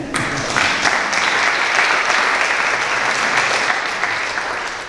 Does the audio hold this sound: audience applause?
yes